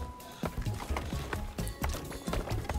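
Cow walking in the video game Unrailed 2, a run of quick hollow clopping footsteps in an uneven rhythm over steady game background noise, fairly close and moderately loud.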